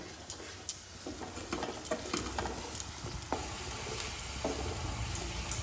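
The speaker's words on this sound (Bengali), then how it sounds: "এখানে তিনটে মিডিয়াম পেঁয়াজ আমি বেটে রেখেছি এটাই ফোড়নের মধ্যে দিয়ে দিচ্ছি পেঁয়াজটাকে খুব হালকা করে ভেজে নিচ্ছি" Onion paste from three medium onions frying gently in oil tempered with whole spices, making a constant close sizzle with frequent spoon strokes and scrapes against the pan, and no talking.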